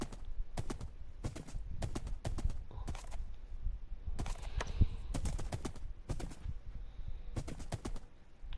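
Horse hooves clip-clop in rhythmic bursts while riding in Minecraft Bedrock, the clusters of sharp taps coming every half second or so and standing fairly close and clear over a low background.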